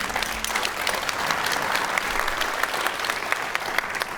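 A studio audience on a television talk show applauds with a full, steady round of clapping that stays loud from start to finish, with no talk over it.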